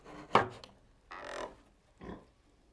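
Piglets squealing and grunting in a farm pen, three separate calls: a sharp loud squeal first, then a longer grunting squeal and a shorter one, near and otherwise quiet.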